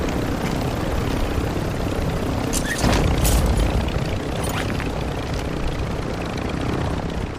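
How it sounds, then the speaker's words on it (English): A helicopter in a tactical shooter game drones steadily with a constant rotor and engine roar throughout, with a brief louder thump midway and no talk. "There's another helicopter over on the road."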